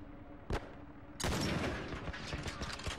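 Gunfire in The Last of Us: a single sharp shot, then a loud, sustained blast of noisy crackling fire with a rough, rolling tail, close and dense, with no speech.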